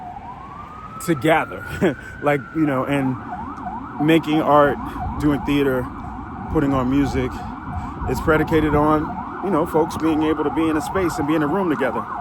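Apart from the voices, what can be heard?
emergency vehicle sirens on New York City street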